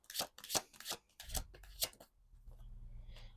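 Tarot cards shuffled and drawn during a love reading, a run of quick papery riffles and slaps close by, then a softer card being slid and laid down.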